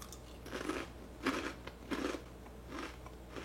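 Crunchy bites of homemade Chex Mix coated in vanilla pretzel frosting, about five close, crisp crunches spaced roughly every half second to second, with no talking.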